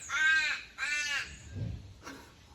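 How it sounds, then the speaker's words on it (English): A pet bird lets out two loud, harsh, crow-like caws in quick succession indoors, then a shorter, softer call after a pause. "Fellow bird saying what's up."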